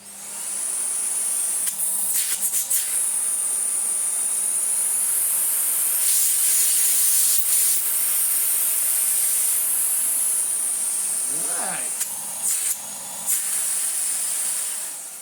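A Miele Revolution Powerplus S5980 vacuum cleaner motor running steadily: a loud, continuous airy whine and hiss throughout, with a few brief knocks and shifts in tone partway through.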